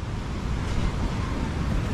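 Sea waves wash steadily outside, with wind buffeting the microphone, as someone checks whether the water is calm enough to head out in a boat. A continuous, fairly close roar with no talk.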